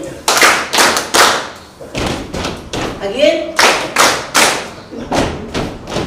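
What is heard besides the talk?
hands clapping together in rhythm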